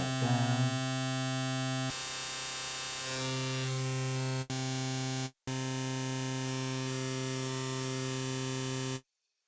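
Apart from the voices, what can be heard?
pink noise from a synthesizer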